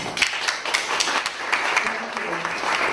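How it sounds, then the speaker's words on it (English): A room applauds at the close of a peace-themed session, scattered clapping with distinct sharp claps standing out, and a brief voice cutting in partway through. "Round of applause, please."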